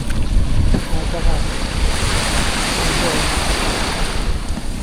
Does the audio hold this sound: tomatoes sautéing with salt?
no